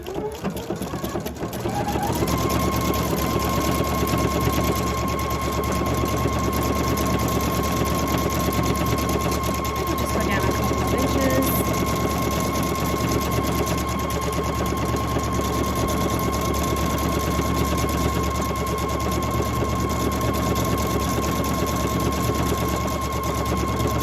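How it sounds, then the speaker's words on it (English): A PFAFF Creative Icon sewing machine stitches out a floating stitch, its steady rapid motor hum and needle chatter running loud and continuous, with a high whine sustained over the mechanical rhythm. "So I'm going to go ahead and stitch this out."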